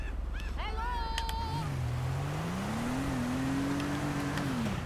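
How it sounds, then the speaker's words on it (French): A car sliding and drifting on snow in GTA Online, its engine revving up in a rising, sustained whine after a brief voiced moment at the start, fairly loud and close. "je vais prendre une voiture, je vais vous montrer comment ça peut déraper en balade dans la neige"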